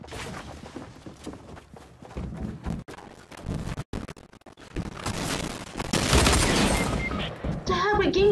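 Rapid dual pistol gunfire rings out in a lag-plagued video game match, loud bursts of shots in quick succession under continuous game noise, building to a dense, louder stretch near the end.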